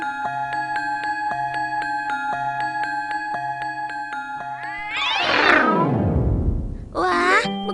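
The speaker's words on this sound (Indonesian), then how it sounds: "bukannya itu kucing nakal yang sering mengganggu" A cartoon cat in a children's animation lets out a drawn-out, wavering meow that rises and falls, cutting in loudly over a plinking background tune, followed by a short second cry.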